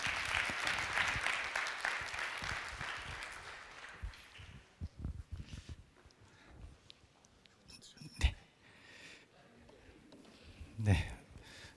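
An audience applauds after a professor's presentation at a Myongji College results-sharing event; the clapping is strongest at first, fades out within a few seconds, and then gives way to quiet room rustling and a couple of isolated thumps.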